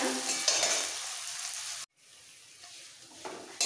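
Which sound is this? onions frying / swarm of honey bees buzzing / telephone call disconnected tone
onions frying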